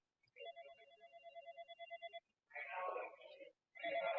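A phone rings with a rapid electronic trill lasting about two seconds, followed by brief muffled speech bursts.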